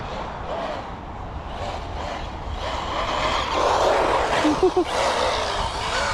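An Asuga XLR motorbike runs on the road with a steady, close roar and rushing wind noise, and its tyres grind and wear as it goes. No speech can be heard.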